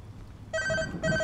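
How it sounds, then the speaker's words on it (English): A telephone rings in a gas station on a night shift, two short electronic ring bursts after a moment of quiet. "Who ringing my phone?"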